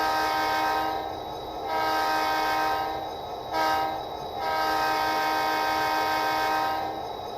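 An HO scale Athearn SD40-2 model locomotive sounds its horn in a grade crossing sequence: two long blasts, a short one, then another long blast, loud and close with no talk.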